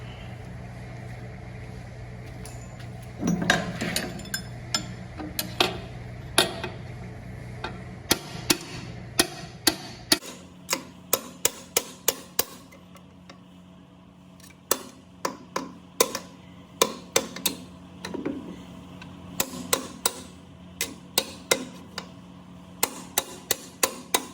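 Sharp metallic hammer blows on a punch ring out in irregular bursts, some rapid and some spaced apart, while removing a shaft-mount motor from an Ammco brake lathe, close by over a low background hum.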